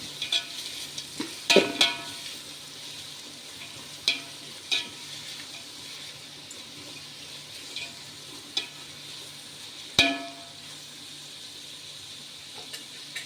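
Onions sautéing in a pan for a drumstick biryani, with a steady low sizzle and scattered sharp scrapes and clatters from stirring, one louder knock near the end; no talking.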